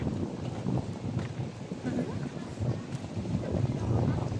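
Steady outdoor wind at Lake Danao Park on Camotes Island, Philippines, rushes and buffets the microphone, a broad continuous roar with gusts rising toward the end.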